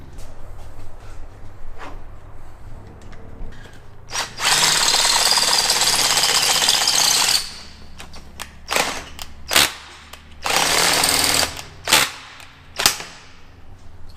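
A power drill whirs loudly in a long burst, then several shorter bursts and sharp clacks follow as the drill bit breaks, close by with no talking.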